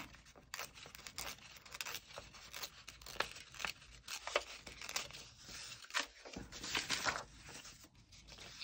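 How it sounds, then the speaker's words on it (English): Paper being torn by hand along its edges: a soft, close series of irregular ripping and crinkling sounds, quiet and continuous, with no talking. "tear a little bit from one side, try and tear the same amount from the other side so that your margins are similar."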